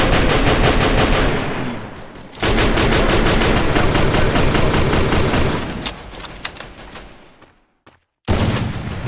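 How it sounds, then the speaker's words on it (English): Loud, sustained gunfire rattles from a battle royale video game, with rapid repeated shots including a sniper rifle, broken by a brief silence near the end before the shooting resumes; no voices. "hits for 150 with the sniper, almost taken down there"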